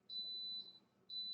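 A rice cooker beeps while dinner cooks, giving two long high-pitched electronic tones separated by a short gap, clear but moderately quiet over a low room murmur.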